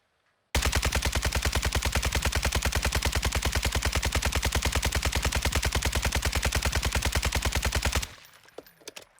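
An RPK light machine gun in Call of Duty empties a full magazine in one long, rapid burst of loud, evenly spaced shots lasting about eight seconds, then cuts off abruptly into quiet.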